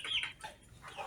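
Young free-range village chickens, under three months old, making a few short clucks and squawks close by, brief and uneven with small pauses between calls.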